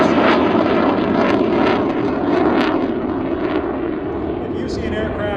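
An F-16 fighter jet in a NORAD interception demonstration at the 2024 Abbotsford Airshow roars overhead: a loud, broad, sustained engine rush that fades slightly over a few seconds, with a voice faintly audible beneath it.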